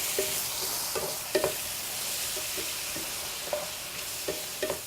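Lamb meatballs and zucchini stir fry hiss softly in a pan while a utensil tosses them, giving scattered light scrapes and clinks over the gentle sizzle.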